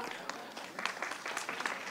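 Applause from an audience at a general knowledge quiz competition grand finale in Mumbai, a steady, moderately faint wash of clapping for a couple of seconds with a few sharper claps standing out.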